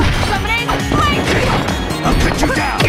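An explosion attack lands in the fighting game Naruto Shippuden: Clash of Ninja Revolution 3: loud crashing blasts and impacts, with voices shouting over the din.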